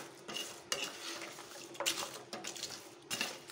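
Fried kommulu snacks are stirred through thick sugar syrup in a pot, giving soft sticky scraping and clinking strokes in an irregular rhythm, close and fairly quiet with no talk.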